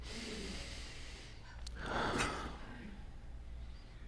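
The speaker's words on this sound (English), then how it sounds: "So everyone, let's take a breath." A group inhales and exhales together in a prayer setting, producing a soft, slow breath that swells and fades over a steady background hiss.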